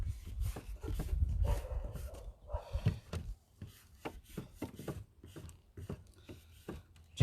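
A dog named Ginger barks outdoors in the backyard in short, separate bursts, with irregular woody knocks mixed among the barks and no voices.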